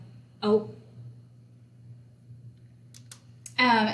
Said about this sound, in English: as soon as you start clicking on this